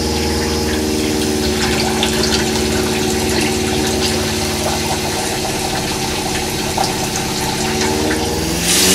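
A Shurflo water pump in a DIY travel trailer runs steadily while pumping water, a continuous close motorized hum with a flowing-water hiss over it and no talk.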